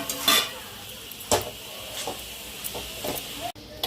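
Potatoes sautéing in a pan with a low sizzle, punctuated by several scraping, clattering strokes of a spoon turning them, heard up close.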